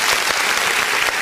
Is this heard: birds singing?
no